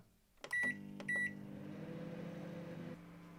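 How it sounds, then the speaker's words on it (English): Microwave oven heating a cup of milk: two short electronic beeps, then the low, steady hum of the running oven, which drops slightly in level near the end. Close and fairly quiet, with no talking. "when your milk's in the microwave, you're going to want to drop down to eye level and just watch the cup spin"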